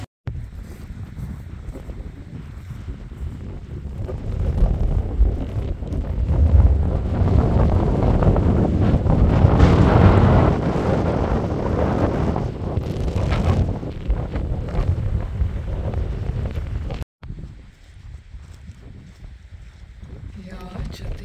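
Strong wind on the summit of Lubań mountain, 1211 m high, roars and buffets the microphone continuously, swelling loudest midway, with a brief cut near the end.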